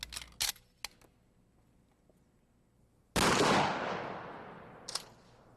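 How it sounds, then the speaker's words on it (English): A shotgun fires a rifled slug at a mannequin: a single loud, sharp blast midway whose echo decays over about two seconds, preceded by a few faint clicks and followed by a brief clack. "And finally, the mannequin is shot with a rifled slug."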